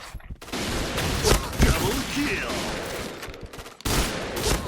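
Crossbow shots and combat effects in the shooting game Point Blank, a dense, loud barrage of firing sounds with game noise running throughout and a fresh burst near the end.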